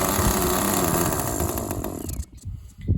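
A small model glow engine running slightly rich on the low-speed setting buzzes loudly and unevenly, four-cycling, sputtering and dropping off before catching again near the end.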